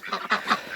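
Ducks kept in pens in extreme cold give a few nasal, honking quacks in quick succession, three or four calls close by with nothing else over them.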